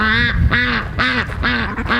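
Ducks quack repeatedly in a steady rhythm, four or five loud nasal calls close by with short gaps between them.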